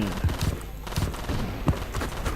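Rapid machine gun fire from the Battlefield 2142 video game, several short bursts of gunshots in a row over a busy background of battle noise.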